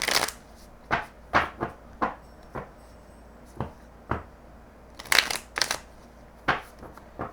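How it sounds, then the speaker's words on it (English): Tarot cards are shuffled in quick, crisp riffles, each burst of flicking separated by short pauses, close and clear with no talking. "they keep telling me to shuffle a little bit more here."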